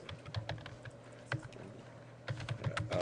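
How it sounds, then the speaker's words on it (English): Typing on a computer keyboard while entering a section heading in a document, soft irregular key clicks in short bursts with a pause in the middle, close and fairly quiet. "I'm going to type in my favorite"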